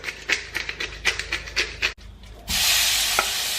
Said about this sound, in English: Oh, that's sizzle though.